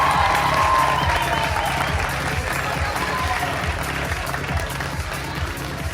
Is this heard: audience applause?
yes